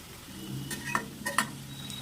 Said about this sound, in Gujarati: હવે તેને આપણે ફ્રાય કરી લઈએ, જેની માટે મેં એક કઢાઈમાં તેલ ગરમ કરવા માટે મૂક્યું છે.